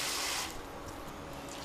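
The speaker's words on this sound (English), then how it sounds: "I can see it's very thick, so I'm gonna dilute it with water a little" Water poured into a thick pot of borscht to thin it, a brief bright splashing pour at the start that fades after half a second into a quieter liquid trickle, close and alone without talk.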